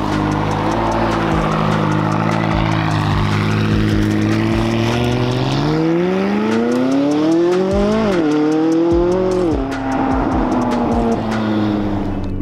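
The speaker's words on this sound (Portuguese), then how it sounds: "Então agora a gente vai ligar o esportivo e dar uma volta." A loud McLaren 570S sports car engine revs up and climbs in pitch as it accelerates, dips between gear shifts, then roars higher again.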